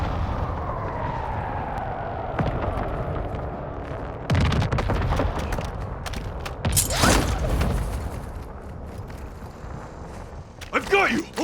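Gunfire in Call of Duty Modern Warfare II on the Vondel map: scattered sharp shots and heavier bursts ring out amid rumbling battle noise, with radio voice chatter over parts of the action.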